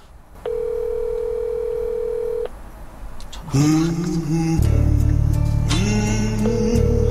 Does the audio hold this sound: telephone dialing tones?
yes